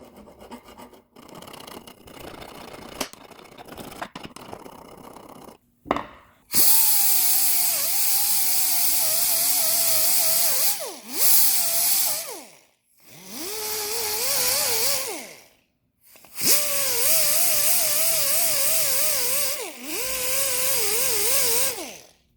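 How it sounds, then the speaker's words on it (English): An abrasive wheel on a power tool grinds rust from the brake bracket of a 2018 Lexus ES 350, coming in as loud rasping bursts with a wavering motor whine, broken by short pauses, after softer scraping and clicks at the start. "Now that abrasive wheel is not very abrasive."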